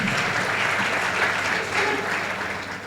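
Sustained applause from an audience at a felicitation ceremony, with dense and even clapping that stays loud throughout and eases slightly at the end.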